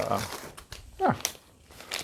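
Brief crinkling and rustling of a small paper bag as a little houseplant is unpacked, soft and close, with talking around it.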